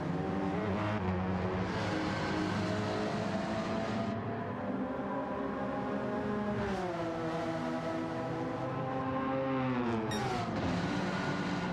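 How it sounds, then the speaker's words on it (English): A Group 4 race car in the Gran Turismo 7 video game, during an endurance championship race, holds a loud, sustained exhaust note that climbs and drops in pitch through several gear changes. "Man, that's a good sounding exhaust note."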